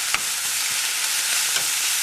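Fresh cilantro sautéing in a pan for mulukhiya (Jews mallow soup), giving a steady close broadband sizzle with a few soft stirring clicks over about two seconds.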